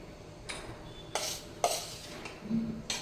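A small mixer jar for grinding mango pulp is handled in a kitchen, giving four or five distinct hard clinks and knocks, close and fairly quiet, spaced under a second apart.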